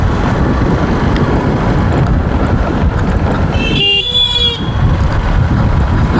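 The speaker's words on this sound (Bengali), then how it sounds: "এইদিকে রাস্তাটা একটু খারাপ তো, তাই জন্য এরকম আস্তেই চালাচ্ছি এখনো পর্যন্ত।" A car creeps slowly along a rough, bad stretch of road, its cabin filled with steady low rumble and wind buffeting, while a brief horn toot sounds partway through.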